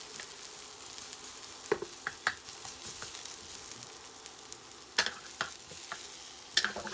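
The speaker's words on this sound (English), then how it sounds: "I'm going to go in with the garlic and the ginger until it gets fragrant." Garlic and ginger cook in a pan on an induction hob until fragrant. A soft, quiet sizzle runs throughout, punctuated by scattered light clicks and taps of stirring.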